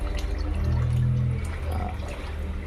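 Water rushes strongly into a homemade liquid level valve made from scrap materials, a steady gushing flow with a low churning rumble, close and continuous, with no voices over it.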